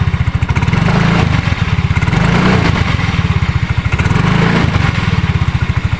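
Yamaha Mio scooter engine revving steadily with a rapid pulsing putter, rising and easing in two surges, close and loud throughout while its drive gear is checked for rough noise; no talking.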